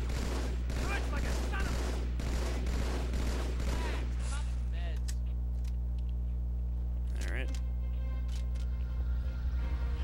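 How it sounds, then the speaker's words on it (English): A battle rifle in Halo 2 fires dense, rapid bursts for about four seconds, loud and close, then stops, leaving a low hum with a few faint distant shots and a brief blip. "pick out your battle rifle and just start firing at them"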